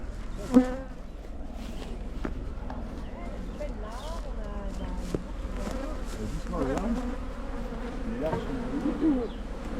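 Honeybees buzz around an open hive during a beekeeping training session, a close, continuous drone with individual bees passing near. People talk intermittently underneath.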